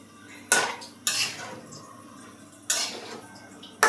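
A metal lid is set down over a pot of curry with potatoes, giving a few sharp clanks and rattles spaced apart, each fading quickly into a quiet room.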